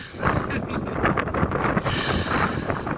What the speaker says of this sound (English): the winds are pretty bad up here